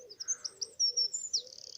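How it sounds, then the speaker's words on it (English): A wren sings loud, rapid high-pitched phrases of bright notes, ending in a fast buzzy trill, close by with no talking. "There's a wren, so lots of you will hear those in your garden."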